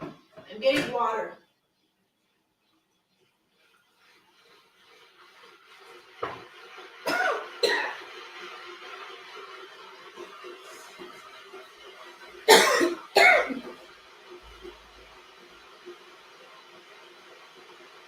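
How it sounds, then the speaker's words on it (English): A person coughs a few times, with a short burst at the start and a stronger double cough later, close and fairly loud against a quiet room with faint background noise. "I was all like, oh, I'm going to cough again."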